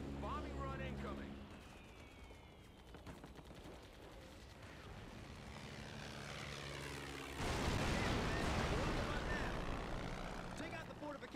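Bombing run in the Captain America: Super Soldier video game, with a steady droning aircraft engine giving way to a loud, sustained wash of explosive rumble and blasts in the second half, over game music.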